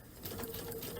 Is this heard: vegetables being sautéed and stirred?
no